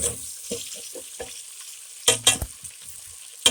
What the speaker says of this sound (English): So we're going to cook this onion a little bit.